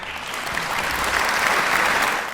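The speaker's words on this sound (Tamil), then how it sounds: "உண்மை என்றால் ஒரு கைத்தட்டு தரலாங்க." Steady audience applause at a Tamil-language panel discussion on media, a dense, even round of clapping from a large crowd lasting a couple of seconds.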